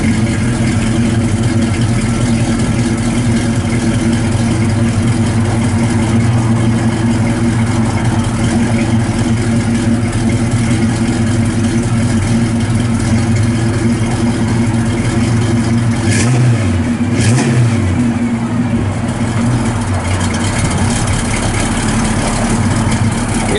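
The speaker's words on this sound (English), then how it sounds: "Nice dual exhaust. Out the back's got the factory RamHorn exhaust manifolds." A 1972 Chevrolet C10 shortbox pickup with a V8 and factory Ram's Horn exhaust manifolds rumbles steadily through dual exhaust, a loud, close, continuous idle with a brief blip of revving partway through.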